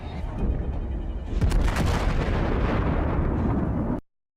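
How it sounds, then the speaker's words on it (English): A massive detonation of artillery ammunition set off by a kamikaze drone strike on an artillery system, a loud sustained roaring blast that swells sharply about midway and rumbles on densely before cutting off abruptly. "A very powerful and beautiful explosion."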